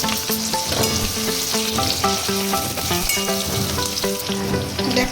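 Chopped onion pieces sizzle steadily in hot oil in a pan, a continuous, fairly loud frying hiss that runs for the whole stretch beneath a melodic music track.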